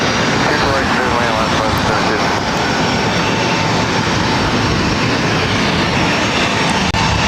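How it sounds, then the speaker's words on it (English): A Southwest Airlines Boeing 737-800 arriving at LAX from Las Vegas gives a loud, steady, broadband jet engine roar that fills the whole stretch with no break. "This is Southwest Airlines 3095 coming in from Las Vegas on 737-800"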